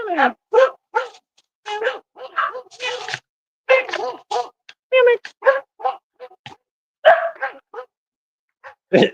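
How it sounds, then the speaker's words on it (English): Two dogs bark and howl together at a storm, a long run of rapid, loud close yips and barks with brief pauses between bursts. "He's gonna bark at the storm. Both of them are."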